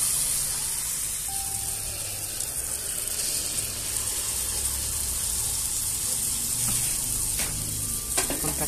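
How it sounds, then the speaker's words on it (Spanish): Picarones dough dropped into hot oil sizzles and crackles steadily, a dense close frying hiss with small pops and spatters rising near the end, with no talking. "vamos a echar nuestro picarón"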